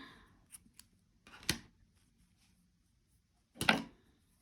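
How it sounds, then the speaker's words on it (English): Scissors snip through yarn in two crisp, close cuts a couple of seconds apart, with small handling clicks before the first, in an otherwise quiet room. "then I'm going to cut my yarn"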